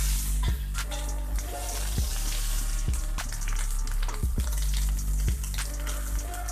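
Two eggs frying in hot sunflower oil in a pan, a steady loud sizzle with sharp clicks and clatters of utensils scattered throughout, no talking.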